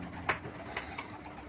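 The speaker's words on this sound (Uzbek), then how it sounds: "Andijon kaptar mana." Andijan pigeons, a fancy breed kept in Kyrgyzstan, coo softly in a few short low calls over a steady background hum.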